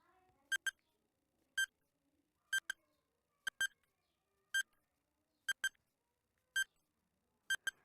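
Countdown timer during a quiz beeps in short electronic tones, mostly in doubled pairs, repeating about once a second in an otherwise quiet space.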